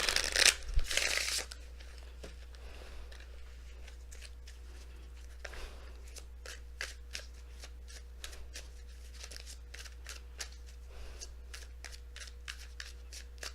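Tarot cards being shuffled, a brief loud riffle at the start, then repeated soft ticking and flicking of cards over a steady low hum.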